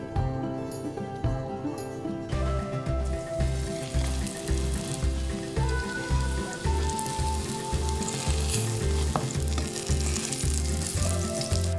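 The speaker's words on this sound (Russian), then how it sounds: "остается их только пожарить на сковороде на растительном масле до золотистой корочки." Syrniki, cottage cheese pancakes, fry in vegetable oil in a pan, giving a steady close sizzle with crackling pops throughout.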